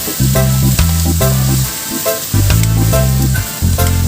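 Pressure-cooked beef tendon sautéing in a pan, a steady close crackling sizzle with a low tonal hum running underneath, briefly dipping near the middle before returning.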